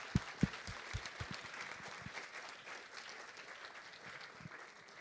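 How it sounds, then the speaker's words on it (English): An audience claps at moderate volume, a few sharp hand claps standing out at first before settling into a softer, even patter. "A big round of applause for Adam again."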